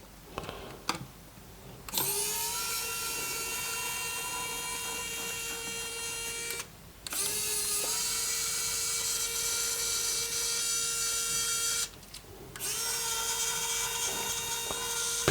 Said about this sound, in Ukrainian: Без проблем, я вам скажу, справляється з таким завданням викрутка.